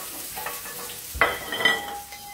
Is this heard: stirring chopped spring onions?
yes